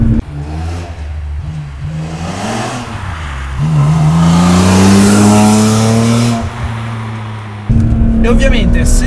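BMW M3 E46 straight-six heard from outside with strong intake and exhaust, revving hard with rising and falling pitch, loud and close, with a brief cut near the end as another burst begins.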